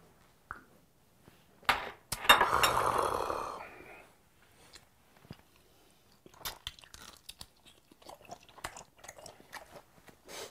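Close-up crunching bites into a wrap of shrimp with onion and chili, a loud burst of chewing followed by softer, scattered mouth sounds.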